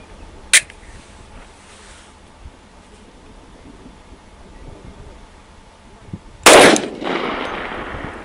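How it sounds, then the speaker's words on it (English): A Glock Model 40 in 10mm fires 180-grain trophy bonded jacketed soft points outdoors: one sharp report, several seconds of quiet, then a second louder shot with a ringing tail. "Glock Model 40. Got the 10mm, 180 grain trophy bonded, jacketed soft points."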